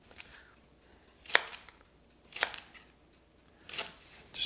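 A knife chops leeks finely on a cutting board, three crisp, separate thuds spaced about a second apart, close and fairly quiet with no talking.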